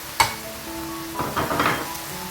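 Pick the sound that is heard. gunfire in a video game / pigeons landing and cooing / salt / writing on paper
salt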